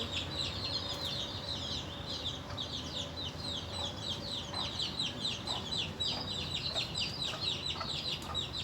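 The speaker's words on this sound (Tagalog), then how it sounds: "Daming manok." Many chickens cluck and chatter in a busy, continuous flock, nearby and fairly loud, with a steady low rumble of background noise underneath.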